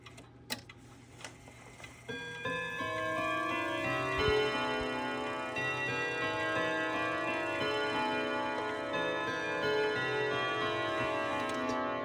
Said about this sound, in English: last one working clock I have, my 1975 Yauch triple chime wall clock.